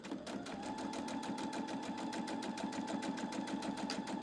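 A sewing machine runs steadily while stitching a seam, its fast even needle clatter and motor hum holding at constant loudness, close by.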